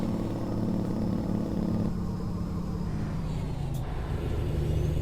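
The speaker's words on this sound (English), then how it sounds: "Engine brake ain't doing much." A heavy truck's engine drones low and steady throughout while braking in American Truck Simulator, with a deep rumbling tone that shifts slightly midway.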